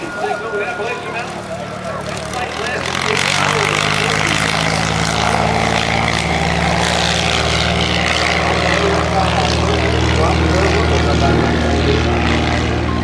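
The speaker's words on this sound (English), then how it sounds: "little demonstration plane coming" A small propeller demonstration plane flies at the 2010 New Garden airshow, its steady engine drone rising after the first few seconds and holding loud and continuous, with crowd and announcer voices mixed underneath.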